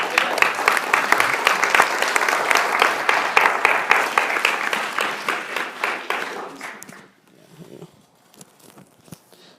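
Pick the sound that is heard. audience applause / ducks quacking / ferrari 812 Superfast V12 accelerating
audience applause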